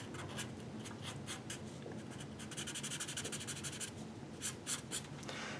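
A pen scratches quickly back and forth on paper while blackening in the hands of a cartoon drawing, close and quiet, in short rhythmic bursts of strokes.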